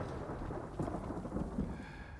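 A thunderstorm in the samurai video game Ghost of Tsushima: a steady low rolling rumble of thunder over the constant hiss of rain, with no talking.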